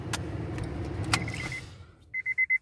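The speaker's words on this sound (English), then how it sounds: "I gotta roll up my back window because I'm in my studio, aka my car." Car back window rolling up with a steady electric motor whir inside the parked car, followed near the end by a few short, evenly spaced tonal beeps.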